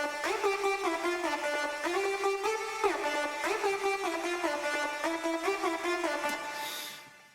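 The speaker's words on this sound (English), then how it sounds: "So this is a patch on Alchemy called Gigantic Edgy Lead" A bright, edgy synth lead from the Alchemy patch Gigantic Edgy Lead plays a repeating melodic riff of sustained, gliding notes, loud and alone, then fades out at the end.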